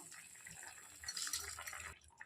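Basmati rice poured into boiling water in a pressure cooker, a soft rushing patter of grains hitting water that swells in the middle and stops abruptly, close and fairly quiet.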